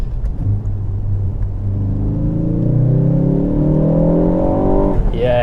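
A tuned Mk4 Ford Focus ST with a Dreamscience 330 bhp turbo setup accelerates hard. Engine rumble rises steadily in pitch through a long pull, loud and close, then ends on a brief hiss near the end.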